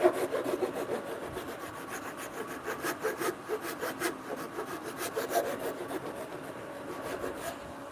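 Hand-sawing wood with a Japanese-style pull saw while cutting dovetails in a workshop, a steady run of rasping strokes that repeats in a regular rhythm, close and moderately loud, with no talking.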